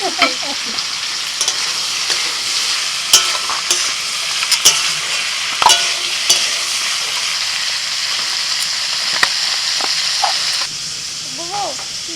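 Chicken cooks in mustard oil for a festive birthday meal, a steady close sizzle with repeated clinks and scrapes of stirring; a voice briefly sounds near the end.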